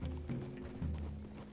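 Horse hooves clip-clopping in Red Dead Redemption 2, a few quick steady steps at close range over a low background hum, with no voices.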